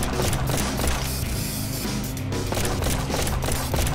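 Busy, steady game sound from Yet Another Zombie Survivors with repeated pistol shots packed into a continuous clatter of effects at moderate level, no talking.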